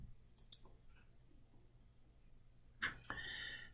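A few sharp computer mouse clicks on a report in a school data website, faint and close, with quiet gaps between them.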